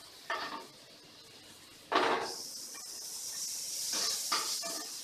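Onions and green chillies tipped into a hot pan for masala idli fry: a few sharp clatters of a utensil, then a steady steamy hiss and sizzle that holds and swells slightly to the end.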